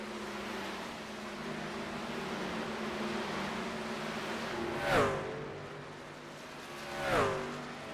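Racing trucks on the oval at Dover Motor Speedway in a racing video game drone steadily around the track, with two distinct trucks whooshing past close by, engine pitch dropping as each goes by.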